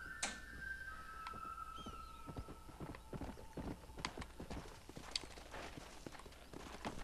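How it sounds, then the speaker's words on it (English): Rhythmic clip-clop of horse hooves trotting close by in Red Dead Redemption, with a brief whinny and some faint background chirps. "You now own a new horse. It'll come when you whistle."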